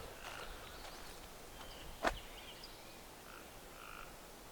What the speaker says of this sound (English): tree frogs.